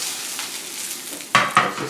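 A vegetarian cod substitute sautéing quickly in a pan over a gas flame, giving a soft, even sizzle that ends with two brief, louder bursts of stirring or tossing.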